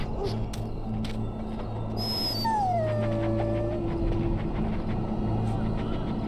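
Sick dog in the fantasy game Dragon Age whimpering, a few high thin whines that slide downward, close and clear over a low steady ambient hum.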